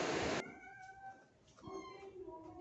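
Cats being fed meow several times in short, rising calls, following a loud burst of noise at the start, with quieter meows overlapping toward the end.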